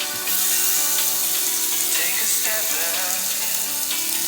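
Bacon hitting a hot pot for a bacon and veggie omelette breakfast gives a loud, steady hiss and sizzle that runs for a few seconds with a watery crackle and no voices.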